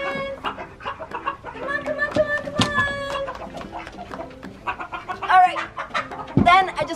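Chickens cluck and squawk in short bursts throughout, with a few louder calls standing out, while a person talks nearby.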